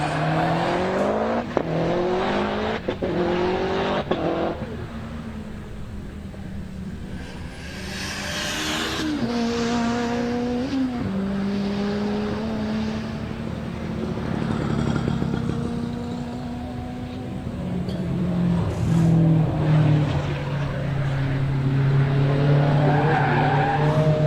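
A race car at a hill climb event accelerates hard through the first corner, engine howling and rising through gears with tire squeal and skidding, passing near and then fading, louder again toward the end.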